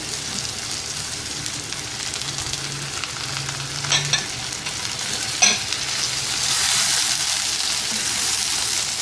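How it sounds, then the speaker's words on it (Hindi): Chicken pieces fry in a karahi for a restaurant-style chicken karahi while being stirred, giving a loud, steady sizzle with occasional scraping stirs, no voices. "और इसको 4-5 मिनट हम चिकन को फ्राई करेंगे।"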